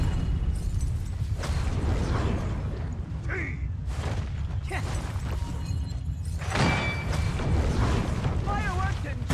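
Fireworks burst in the video game Where Winds Meet: a series of booming, crackling explosions with whistling rising streaks near the end, dense and continuous, with a voice faintly underneath.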